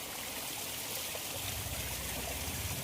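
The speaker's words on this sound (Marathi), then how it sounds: "झरे बघा छोटे छोटे झरे इथे आहेत" Steady, gentle trickling of a small mountain stream in the rain, a soft continuous rush of water close by with no voices.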